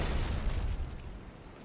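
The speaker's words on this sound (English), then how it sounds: "I show off plasma grenades here, but frags work as well" A plasma grenade goes off in Halo 2 on the Lockout map, one muffled booming blast that rolls and fades over about a second, heard alone without talking.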